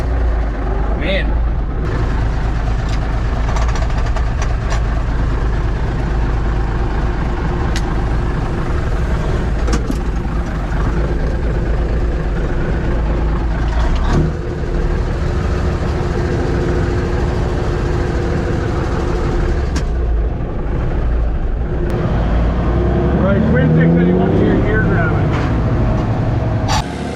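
The engine of a 1957 Hayes HD truck idles steadily right after starting, set on fast idle: a loud, continuous low rumble that lasts throughout with little change, close up, while people talk now and then over it.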